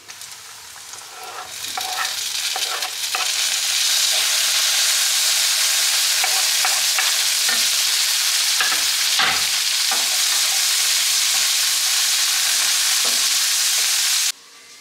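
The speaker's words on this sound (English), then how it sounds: "I'm gonna just whip up a little omelette" An omelette cooking in a hot pan, with loud continuous sizzling that swells after a couple of seconds and is broken by utensil scrapes, then cuts off at the end.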